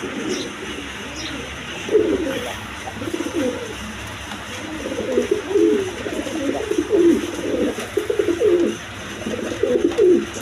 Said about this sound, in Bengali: এখানে একটা ক্রিম বা রেসার কবুতর আছে অরিজিনাল রেসার